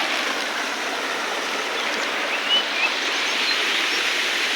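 Water rushing steadily after heavy overnight monsoon rain in a village, a continuous even roar of flowing water with no talking.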